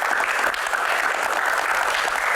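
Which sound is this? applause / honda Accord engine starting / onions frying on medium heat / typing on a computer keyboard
applause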